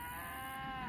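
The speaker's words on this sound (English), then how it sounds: "Oh my gosh, they're mooing at my mom." Cows on a farm moo steadily at close range, one sustained, drawn-out call with no talking over it.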